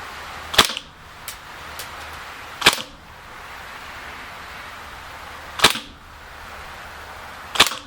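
A KWC Mini UZI BB airsoft gun fires four sharp, isolated shots spaced a couple of seconds apart during an outdoor field test, with a faint click between the first two and quiet background in between.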